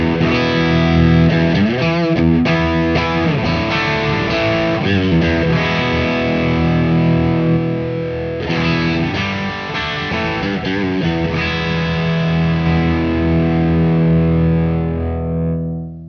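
An electric guitar runs through a Clarksdale distortion pedal, playing loud, gritty sustained chords and riffs with a short run of quicker picked notes before ringing out at the end.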